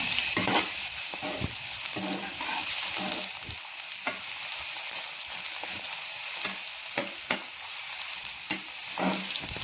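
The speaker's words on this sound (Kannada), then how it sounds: "ಒಂದು ಆನಿಯನನ್ನು ಉದ್ದುದ್ದಾಗಿ ಕಟ್ ಮಾಡಿ ಹಾಕ್ಕೊಂಡಿದ್ದೀನಿ. ಸ್ವಲ್ಪ ಹೊತ್ತು ಫ್ರೈ ಮಾಡೋಣ." Long-cut onion strips fry in a hot pan with a steady sizzle, broken by repeated scraping stirs and clinks of a spatula throughout, close up and with no voices.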